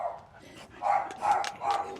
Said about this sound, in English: What type of dog?